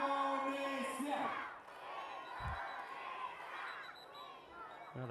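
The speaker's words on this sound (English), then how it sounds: "Now the crowd chant home the final Indonesian riders" At the finish of the Asian Games 2018 cycling road race in Indonesia, a crowd chants and cheers for the last Indonesian riders, a moderate rising and falling roar with a few sharp knocks and whoops.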